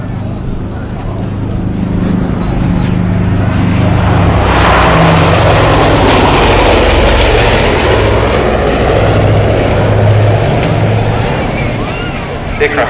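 A Lockheed Constellation airliner with four huge 3,350-cubic-inch Curtiss-Wright R-3350 piston engines roars loudly and continuously at an air show, a thick rumbling drone filling the whole stretch with a swell in the middle.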